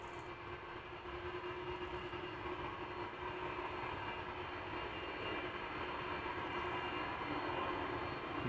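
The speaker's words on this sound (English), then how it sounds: "The airplanes arriving also make a little noise in advance." A distant airliner arriving at Amsterdam Schiphol Airport gives a steady, broad, low rumble that holds evenly throughout, with no voices.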